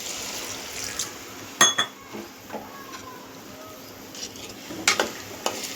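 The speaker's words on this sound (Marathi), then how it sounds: "ग्लास गरम पाणी घेतलं ते यामध्ये टाकून घेते." A glass of hot water poured into a pot of chhole masala, a chickpea curry, makes a soft, steady wash, broken by a few sharp clinks of glass and utensils against the pot.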